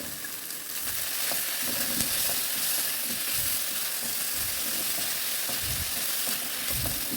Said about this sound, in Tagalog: i-add natin ang chicken natin po